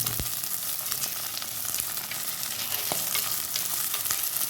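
Onions and curry leaves sizzle and fry steadily in a pan for a Kerala fish curry, with occasional utensil scrapes and taps from stirring, close and continuous without any talk.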